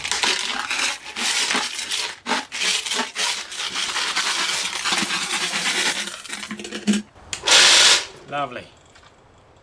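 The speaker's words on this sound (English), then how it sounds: "This is some tumbler media. Basically some sort of ceramic. Throw them in the tumbler. Tumbler tumbles." Ceramic tumbler media rattling and grinding inside a tumbler, a dense rolling clatter of many small hard pieces, close and loud, ending in a brief sharp hiss; a voice speaks briefly near the end.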